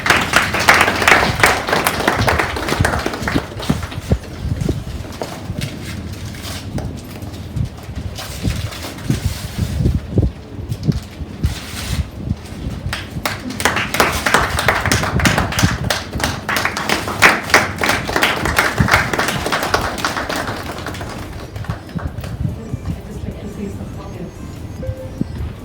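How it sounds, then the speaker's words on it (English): An audience at a book launch during a handloom day conference applauds in a long, dense round of clapping that swells, dips briefly, then builds again before thinning out, loud and close. "A round of applause,"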